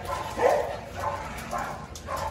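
Shiba Inu puppies, among them black females, at a dog-breeding farm in Bảo Lộc, Lâm Đồng, give about four short yelps and whimpers at a steady spacing, fairly close and with no talking.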